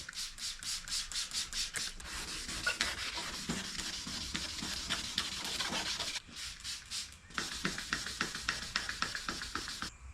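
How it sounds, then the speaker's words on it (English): Wet sanding by hand with 1500-grit sandpaper on the quarter panel paint of an Audi A4 B6. Steady, close rubbing and squeaking strokes repeat in a quick back-and-forth rhythm, with a brief pause partway through. "I'm going to start with some 1500 grit and wet sand back here on the quarter"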